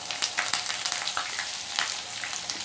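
Raw peanuts and curry leaves fry in hot oil with a bright, crackling sizzle and scattered sharp pops, close and steady for a few seconds, with no talking.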